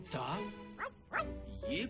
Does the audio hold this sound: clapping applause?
no